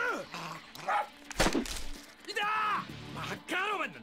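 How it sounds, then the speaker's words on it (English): An attack dog in Yakuza 3 lets out a few sharp barks and yips among game speech, with people talking in Japanese around the brief outbursts. "Oh, we got an attack dog,"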